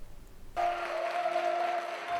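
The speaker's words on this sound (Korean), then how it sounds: "웨딩드레스를 입은 신부와 턱시도로 한껏 멋을 낸 장병들이 식장에 들어서자 환호성이 터집니다" Cheering and clapping break out as brides in wedding gowns and soldiers in tuxedos enter a joint army wedding ceremony, a sudden swell of crowd noise with a steady musical tone underneath.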